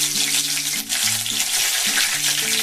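Bay leaf and white cumin sizzling loudly in hot oil for a tempering, a steady dense crackle throughout with some tonal hum underneath.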